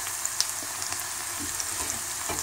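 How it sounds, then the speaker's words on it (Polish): Tawny grisette mushrooms (Amanita fulva) hit a pan of lightly softened onion in butter and set off a steady, fairly quiet sizzle, with a few soft stirring clicks scattered through it and no voices. "na lekko zeszkloną cebulkę wyrzucamy te muchomorki"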